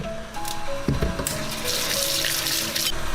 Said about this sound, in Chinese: 再来洗一些花菜，